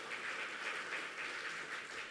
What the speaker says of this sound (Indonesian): Tepuk tangan sekarang ya.